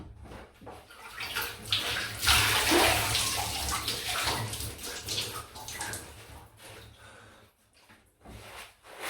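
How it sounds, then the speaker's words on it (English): Tap water runs steadily for a final rinse after a shave with a Feather ASD2 double-edge safety razor, a close broadband rush with splashy surges peaking early and easing off toward the end. "Final rinse"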